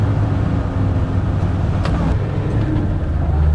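A tuned Land Rover Defender Td5 90 with a Falcon hybrid turbo drives on a wet road, producing a loud, steady low engine drone with road rumble inside the vehicle, held back from full throttle.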